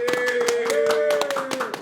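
A studio audience claps for Marco Túlio on a talk-show episode, a short burst of quick, close handclaps with a voice sounding briefly alongside.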